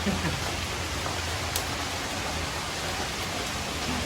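Steady rain falls around a rural home at mealtime, forming a constant hiss throughout. A few faint voices sound in the background.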